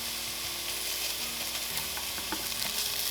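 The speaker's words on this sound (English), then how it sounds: "I'm going to keep cooking these onions" Onions cooking in a pan for omurice, a steady close sizzle and crackle with faint stirring scrapes, no talking.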